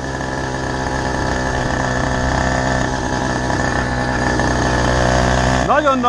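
A Chinese moped's engine runs steadily at 35 while being ridden, a close, buzzing drone with a constant pitch that holds throughout and swells slightly near the end.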